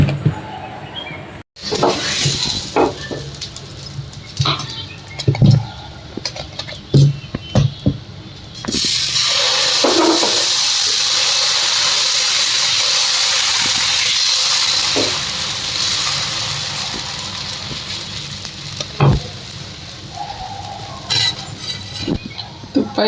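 Dosa batter of red rice flour and mixed rava poured onto a hot pan, giving a loud, steady sizzling hiss for several seconds, with scattered kitchen clinks and handling noises before and after.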